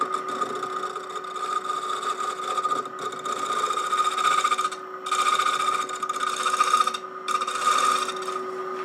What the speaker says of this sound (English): It's my spear point scraper in a shearing mode.